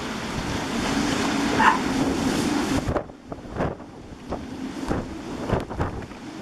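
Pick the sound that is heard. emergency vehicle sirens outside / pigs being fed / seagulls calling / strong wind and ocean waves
strong wind and ocean waves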